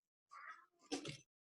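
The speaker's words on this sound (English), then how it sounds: "I think I hear my kitty" A pet cat gives a short two-part meow, faint and alone in a quiet room, lasting about a second.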